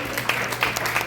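A seminar audience clapping briefly, a quick burst of scattered hand claps in a room over a steady hum, fairly close and short.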